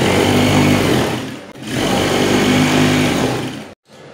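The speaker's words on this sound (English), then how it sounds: "I'll just sew it in, attach it straight down." A sewing machine stitches a structured sleeve with crinoline, running loud and continuous and close by, with a brief pause partway through and an abrupt stop near the end.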